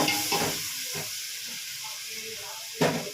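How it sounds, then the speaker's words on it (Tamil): Tomatoes sizzling and frying in a hot pan with cumin for sambar, a steady hiss with a few stirring scrapes. "இப்போ தக்காளி நல்லா வதங்கிடுச்சு."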